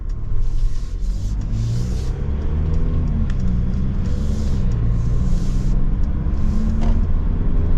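A 2024 Mercedes Storyteller Stealth cargo van drives along with a steady, loud engine and road rumble heard from inside the cabin, and the pitch rises and falls slightly.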